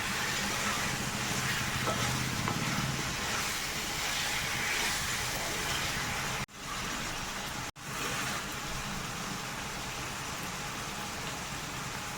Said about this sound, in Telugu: మసాలా వేగుతుంటేనే కడుపు నిండిపోతుంది అంత మంచి అరోమా అన్నది వస్తుందండి